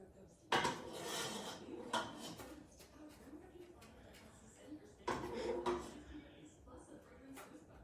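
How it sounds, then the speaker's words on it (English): Potato leek soup is ladled into a bowl, with two clusters of metal ladle and dish clinks and scrapes between quieter stretches while a person talks nearby. "Then we're gonna plate it, put it in the bowl"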